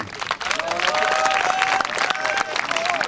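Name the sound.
audience applauding Pedro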